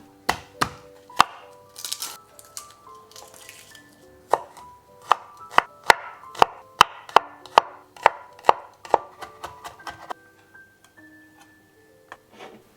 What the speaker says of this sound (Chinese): 最后将大蒜给切碎。